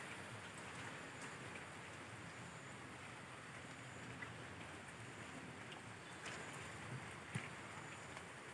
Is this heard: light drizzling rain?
yes